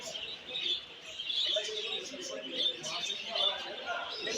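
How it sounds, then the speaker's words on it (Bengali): Many budgerigars at a bird competition in Pangsha, Rajbari fill the room with dense, continuous high chirping and twittering. It swells and dips in loudness, with a person's voice murmuring underneath. "পুরো পাখির কিচিরমিচির"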